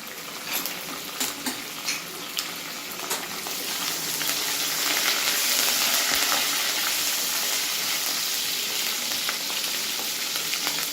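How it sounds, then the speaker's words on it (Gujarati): Mustard seeds, cumin, chopped garlic and curry leaves sizzle in hot oil for Gujarati khichu, a bright crackling fry with light stirring clinks early, swelling into a steady loud hiss close by. "राई, जीरु, लसण और लीलो लीमड़ो नाख्या बाद 1 થી 2 मिनिट माटे आपणे एने सातरी लईशुं।"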